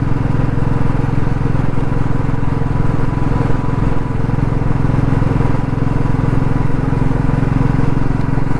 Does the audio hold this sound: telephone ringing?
no